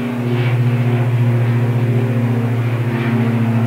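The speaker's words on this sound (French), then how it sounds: "bruit d'avion." Steady low drone of an airplane, heard close and loud as a continuous rumble with a slight pulsing, alone with no voices.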